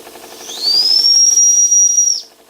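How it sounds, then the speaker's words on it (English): A single shrill whistle on a Cooper Brothers Model 2508 model steam engine rises in pitch and holds a steady high tone for about a second and a half before cutting off, over a soft rhythmic chuffing. "Let's try the whistle"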